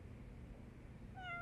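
In the video game Judgment, a cat gives one short, clear meow near the end, rising over a low, quiet background hum.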